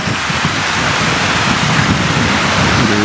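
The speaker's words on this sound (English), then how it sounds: "really nice stream just running down there to the sea" A stream runs down toward the sea in Iceland with a constant loud rushing wash of water. Broadband and close-sounding, it carries no talking.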